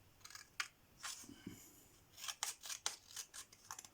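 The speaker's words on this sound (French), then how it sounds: "Alors, je vais le découper." Scissors snip through a paper Christmas card in a series of short, close cuts, some spaced apart and others quick and clustered, with no talking.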